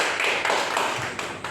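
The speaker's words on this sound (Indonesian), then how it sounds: "tepuk tangan untuk kelompok 2." Brief burst of classroom applause for a student group, dense overlapping claps from a small crowd at close range, fading slightly toward the end.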